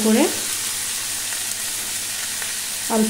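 Vegetables coated in ginger-cumin paste are stirred in a frying pan: a steady close sizzle, with a spatula scraping the pan briefly at the start and again at the end.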